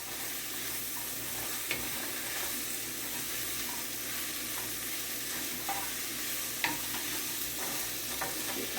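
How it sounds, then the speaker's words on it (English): Onions with green, red and yellow bell peppers sizzle steadily in a hot pan, a continuous frying hiss with a few soft clicks of stirring, close and unbroken, no talking. "I have some onions and green pepper, red pepper, yellow pepper, that I'm adding into there. Gonna get that sizzling."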